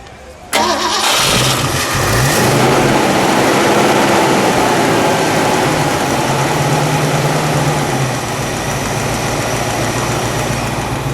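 A 1965 Sunbeam Tiger MK I roadster engine cranks and catches, roaring loudly up to a high rev before settling into a steady, smooth idle.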